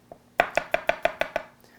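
A knife slices a trimmed garlic clove lengthwise on a board. Seven crisp, evenly spaced cuts come in quick rhythm, loud and close, with no voice over them.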